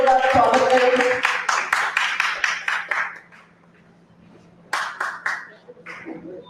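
Loud, close clapping from the audience welcoming poets at a Kavi Sammelan held for the 75th Independence Day in Khatwari Darbar, Mumbai. It fades after three seconds and is followed by a second, shorter burst.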